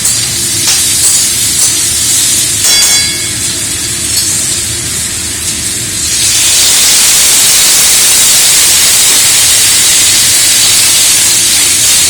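Water poured into a hot pan of green chillies bursts into a loud, steady sizzle and steamy hiss that swells and keeps roaring, with a few clinks of utensils near the start.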